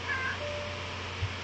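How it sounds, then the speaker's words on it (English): A cat meows indoors, a faint, drawn-out cry followed by a second, quieter one over a steady background hum. "He's meowing."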